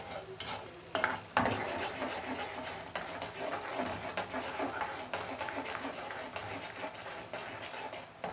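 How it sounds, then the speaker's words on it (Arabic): A salted halawa mixture for sesame, peanut and chickpea mulid sweets is stirred in a pot, giving soft, continuous scraping and rustling strokes at a fairly low level with no talking. "ونقلب."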